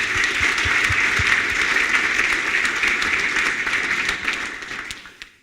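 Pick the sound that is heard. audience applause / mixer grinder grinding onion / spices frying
audience applause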